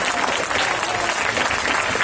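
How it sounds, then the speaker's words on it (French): A crowd applauds loudly and continuously, dense clapping filling the whole moment without pause. "peut l'applaudir encore très très très très fort"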